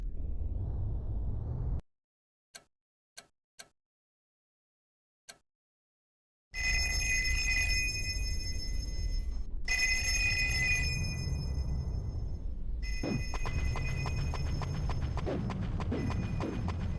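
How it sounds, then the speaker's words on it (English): Phone ringing in the Payback 2 video game: a few faint isolated ticks in near silence, then a steady electronic bell-like ringing tone that persists over background game noise. "Head to the phones for more missions."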